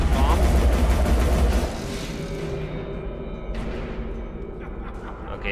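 Gunfire in the video game Alice: Madness Returns comes as a dense, noisy burst of rapid shots and booms at the start. It then fades into quieter game ambience with scattered sharp effects.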